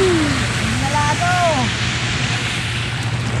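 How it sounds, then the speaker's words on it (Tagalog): Rain falls steadily at an outdoor fishing spot, a dense, even hiss throughout, with a few faint bird calls early on. "Ulan na, mga master."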